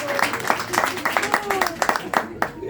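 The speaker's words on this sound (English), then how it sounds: "Okay, you can clap." A stand-up comedy gig audience claps in scattered, uneven bursts, individual hand claps audible with speech mixed in.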